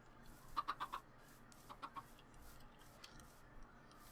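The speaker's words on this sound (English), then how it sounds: "Hello, chickens." Soft, clipped Minecraft chicken clucks come in a quick run of four, then a few more scattered clucks, faint and a little distant over quiet background.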